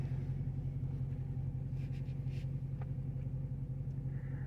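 A Dodge Hellcat Widebody pulls up slowly at an oil-change stop, its engine a steady low rumble that holds close and even throughout, with only faint clicks above it.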